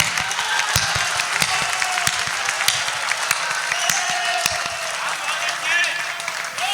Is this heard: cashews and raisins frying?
no